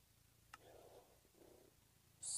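A cat purs close by, a quiet, steady low rumble with faint rhythmic pulses, then a brief louder noise at the very end.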